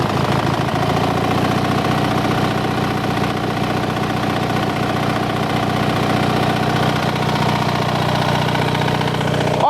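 A car engine runs cold just after starting. Its steady, close idle rumbles and chugs evenly throughout, with no voices.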